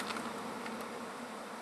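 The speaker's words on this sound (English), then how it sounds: "the bees are going to get a little disoriented now because they're going to realize that their queen is gone out of the hive right now" Honey bees swarm around an open hive whose queen has gone, giving a dense, steady, close buzzing hum with no voices.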